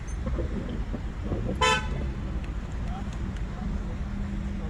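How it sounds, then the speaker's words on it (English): A car horn honks once, short and clear, in city traffic on a Los Angeles street, over steady road rumble and passing vehicles. "I think celebrities are honking at me."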